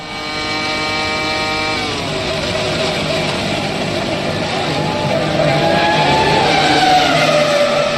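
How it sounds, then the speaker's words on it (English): Formula 1 car at the 2003 Hungarian Grand Prix, losing its left rear wheel and crashing into the barriers: a loud, sustained engine scream with shifting, sliding tones and a rough roar beneath. "A left rear wheel failure spears Rubens on a one-way ticket into the barriers."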